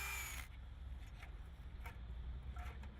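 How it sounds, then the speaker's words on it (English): Hammer drill boring holes into a poured concrete masonry wall: a brief loud burst at the start, then a quieter, steady grinding rumble with small intermittent clicks. "Then drill holes with a hammer drill."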